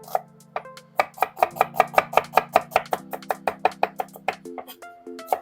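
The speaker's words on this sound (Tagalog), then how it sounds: "Maglalagay din po tayo ng sibuyas. Hihiwain po natin ng maliliit." Onion chopped into small pieces on a cutting board for pork lumpiang Shanghai, a steady run of about twenty crisp knife strikes, loud and close, with a low hum beneath.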